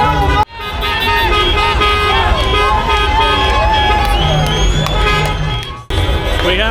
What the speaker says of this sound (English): People beeping their horns, sitting on the roof of the cars.